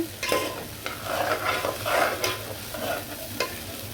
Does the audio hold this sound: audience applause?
no